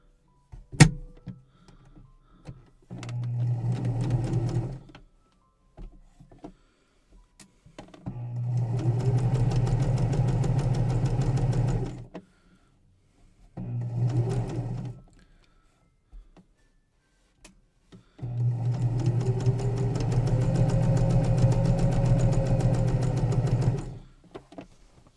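A sewing machine stitches an apron pocket seam in four separate bursts, each a loud, close, whirring hum that starts and stops sharply with quiet pauses between runs.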